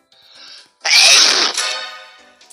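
A loud, close sneeze bursts out sharply, preceded by a faint intake of breath and trailing off into a brief voiced tail, with no talking.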